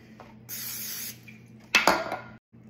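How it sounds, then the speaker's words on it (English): Two short hissing bursts of cooking spray into a bowl, the second louder and sharper, with a low steady hum underneath and a brief silence near the end. "Spray."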